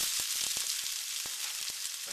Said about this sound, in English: Hear that sizzle, hear that going on there.